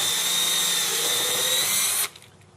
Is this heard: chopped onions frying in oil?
no